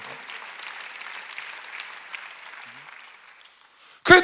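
A church congregation claps steadily in a dense wash of applause that gradually thins and fades, ending with a brief loud burst.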